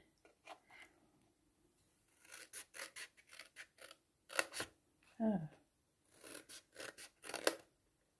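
Several bursts of scissor snips, close and crisp, in quick clusters with short pauses; a brief voiced exclamation breaks in midway.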